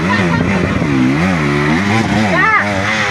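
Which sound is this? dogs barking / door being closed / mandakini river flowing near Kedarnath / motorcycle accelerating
motorcycle accelerating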